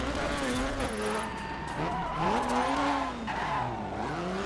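Off-road rally car in the DiRT 3 racing game sliding under the e-brake, a steady engine roar with drawn-out tire skid and squeal through most of the stretch, loud and close throughout.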